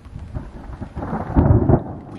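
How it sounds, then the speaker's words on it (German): Thunder from a lightning strike roughly 100 metres away rumbles loud and close during a storm, swelling into a heavy crash and carrying rain noise, with nobody talking. "gerade ist da so keine 100 Meter von uns entfernt ein Blitz eingeschlagen"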